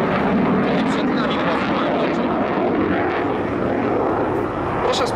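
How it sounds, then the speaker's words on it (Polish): A Ukrainian Air Force Sukhoi Su-27 fighter jet roars steadily overhead during an air show display in Radom, a broad continuous engine rumble heard from a distance under a commentator's talk. "na niebie mamy w tej chwili Su-27 z Ukrainy z ukraińskimi pilotami za sterami"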